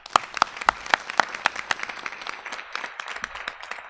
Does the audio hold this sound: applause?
yes